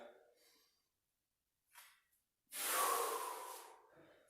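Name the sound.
breathing during single leg squat exercise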